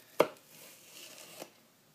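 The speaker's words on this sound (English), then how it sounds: "So just cut it into strips, getting rid of parts that don't look so good." A knife chops once sharply through jalapeño on a cutting board, followed by a quieter second cut about a second later, close and isolated.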